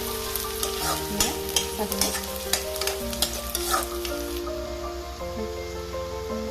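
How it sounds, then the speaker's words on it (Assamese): Onions for a home-style chicken curry fry in oil until reddish, with a constant sizzle and repeated close stirring scrapes over soft background music. "পিঁয়াজখিনি ৰঙচুৱা হোৱালৈকে মই অকণমান ভাজি থাকিম"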